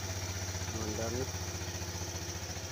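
A motorcycle engine that starts but tends to stall sits idling with a steady, even low throb and regular pulsing. A voice speaks briefly over it near the start.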